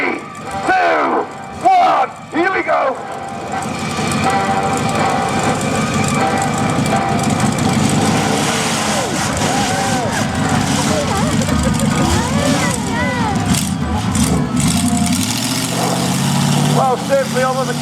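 The Big Pete monster truck's engine roars at the Essex Country Show at Barleylands, a loud, sustained growl with swells of revving. An announcer's voice is heard at times.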